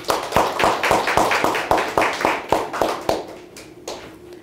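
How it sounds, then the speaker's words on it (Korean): A church congregation claps together in a steady, quick rhythm of sharp hand claps for about four seconds, loud and close, gradually thinning out toward the end with no voices over it. "우리 박수 한번 합시다"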